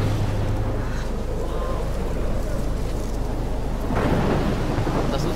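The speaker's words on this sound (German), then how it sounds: "Ein gewaltiger Sturm, möchte ich sagen." A violent thunderstorm rages in the Life Is Strange video game, with heavy rain roaring steadily and a deep thunder rumble swelling near the end, loud and constant throughout.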